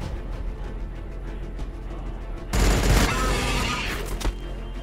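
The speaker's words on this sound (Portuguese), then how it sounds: "Vamos meter tiro de pistola ali." A sudden loud burst of pistol fire in the Warhammer 40k Battlesector strategy game, an abrupt booming blast with a crackling tail, following a steady, dense game-sound bed.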